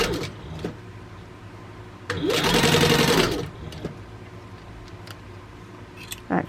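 A sewing machine stitches pieces of a pumpkin bucket bag in one quick burst of about a second, with quiet handling clicks and rustles before and after.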